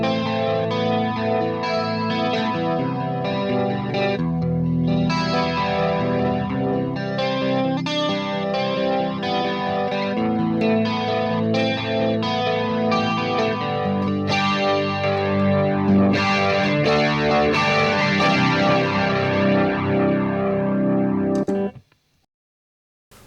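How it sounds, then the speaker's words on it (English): Guitar played through the triple chorus setting of a DMME DSP-1 multi effects pedal, split across left, center and right channels, giving lush, shimmering chords and picked notes that ring continuously for about twenty seconds before stopping. "So this is the triple chorus where we have a split between the left, center and the right channel."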